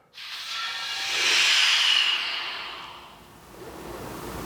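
A loud, steady hiss of escaping pressure swells for a couple of seconds, then tapers and lingers at a lower level.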